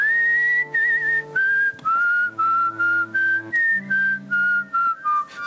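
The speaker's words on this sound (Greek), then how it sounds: "ας σφυρίξουμε όλοι μαζί." A concert audience whistles a melody together in unison, a steady sustained tune in clear repeated phrases with short breaks between them and no talk.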